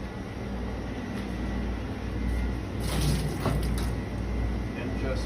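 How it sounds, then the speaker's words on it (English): Electrophoresis buffer from a PAGE gel tank is poured into a lab sink, a continuous splashing wash of liquid with a louder surge in the middle. "Then you can empty the buffer into the sink carefully."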